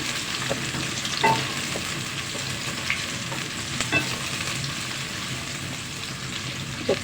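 Onions and whole garlic cloves fry in a pan with a steady, even crackle, close and moderate, and a few soft clinks and scrapes of stirring.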